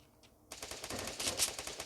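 Rapid automatic gunfire erupts in a Free Fire battle royale firefight, a dense, steady rattle of shots that starts abruptly after a brief quiet moment and continues loudly without talk.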